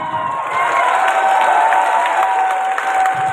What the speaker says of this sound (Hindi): यदि ताली बजानी है तो एक बार हाथ उठा के